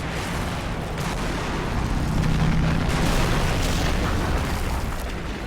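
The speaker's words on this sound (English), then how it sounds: "Here comes the Katusha again." Katyusha rocket barrage in the WWII strategy game Men of War: Assault Squad 2, a dense continuous roll of heavy explosions and booms that swells in the middle and stays loud throughout.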